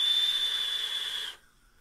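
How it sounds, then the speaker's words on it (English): Vape airflow through a Cthulhu Mods RTA atomizer with the airflow set a little below halfway, producing a steady, clear high-pitched whistle over a breathy hiss for over a second before cutting off to near silence. "it makes that whistle noise when you go a little bit below halfway"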